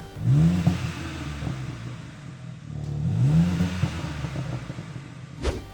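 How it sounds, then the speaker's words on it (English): BMW M4 CSL engine with a titanium exhaust back box revving twice in rising sweeps, then dropping to a burbling idle, close and loud, with a sharp pop at the end. "you've got a switchable exhaust system which you can make louder, and the back box on the CSL is made out of titanium"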